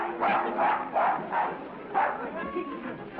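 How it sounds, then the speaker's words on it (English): In a 1936 film scene set in a casino, a dog barks repeatedly in a steady series of sharp, close barks with muffled old-film sound. "will you kindly take that dog out of the casino?"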